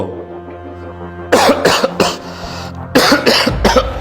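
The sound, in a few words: man coughing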